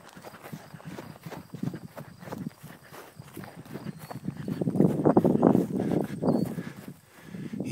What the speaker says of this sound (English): The jungle horse is on the move.